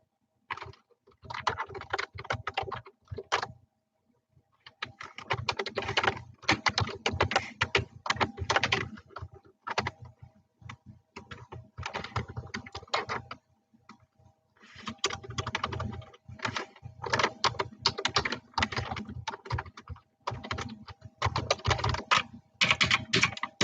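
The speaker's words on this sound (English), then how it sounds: "let me type this up for you guys" Fingers type on a computer keyboard in quick clattering bursts of keystrokes, separated by short pauses, close and clear with no talking over them.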